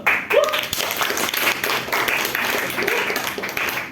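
A classroom claps briefly on cue, a short burst of scattered applause heard together with a teacher's and students' voices in a lively room.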